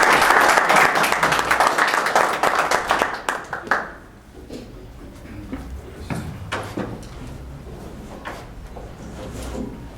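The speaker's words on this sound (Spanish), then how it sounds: "Pido un aplauso para el ingeniero Tomás Durán Nieto" An audience at a book presentation applauds an engineer being introduced, brisk dense clapping that fades out after about four seconds, leaving scattered knocks and shuffling in a quiet room.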